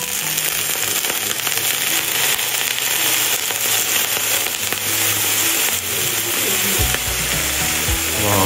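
Sparassis cauliflower mushrooms sizzle loudly in a pan after a tablespoon of white wine goes in, a steady close hiss dotted with sharp popping crackles throughout.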